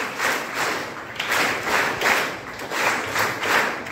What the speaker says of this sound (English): First special clap, go.